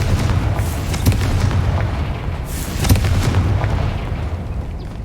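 Confringo fire spell blasting in Hogwarts Legacy, a sustained rumbling boom with a couple of heavier bursts near one and three seconds, loud and close over a low roaring bed.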